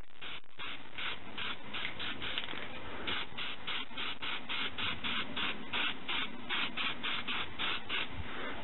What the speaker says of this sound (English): You just basically paint it on.